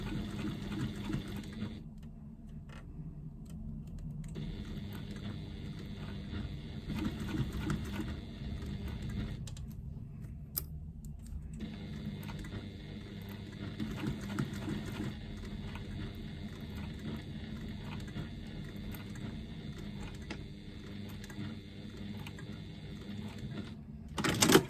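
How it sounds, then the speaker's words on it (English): A sewing machine stitches a card slot seam on a fabric wallet along the bottom edge, a steady mechanical whir running almost continuously with two brief pauses, moderately quiet and close. "I'm going to stitch that in place along the bottom edge using a 1/4 inch seam allowance"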